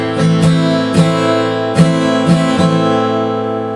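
Acoustic guitar strummed alone in a simple down, up, down, pause, down pattern: about six clear ringing strums with a short gap midway, and the chord sustaining between strokes.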